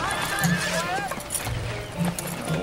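Horse giving short neighs and whinnies along with faint hoof clip-clops, close by, while someone talks over it.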